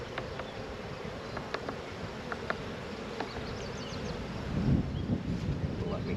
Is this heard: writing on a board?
no